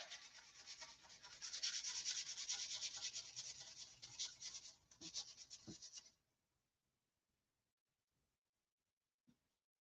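Steady hand sanding on a surface, a continuous raspy scratching that stops abruptly, followed by near silence and one small knock.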